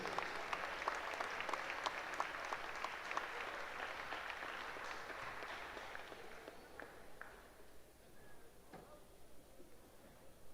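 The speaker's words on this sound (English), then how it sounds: "Ladies and gentlemen, another round of applause for our boys basketball and cheerleading seniors." Crowd in a high school gym applauding boys basketball and cheerleading seniors on senior night, dense clapping that holds steady for several seconds and then thins out and fades, with a few loud isolated claps.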